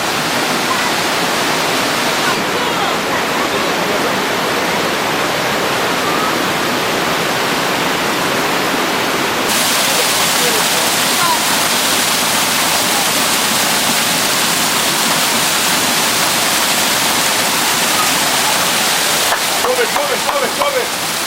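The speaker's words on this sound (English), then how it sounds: "Look up, you'll see the waterfall." Victoria Falls in Dominica roars as a loud, continuous broadband rush of falling water, filling the whole stretch with steady noise and occasional faint voices of hikers.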